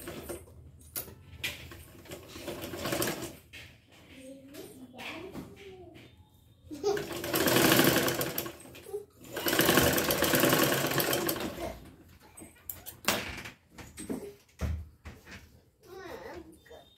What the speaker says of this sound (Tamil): நான் இப்போ வந்து மிஷின்லேயே தைச்சிடுறேன்.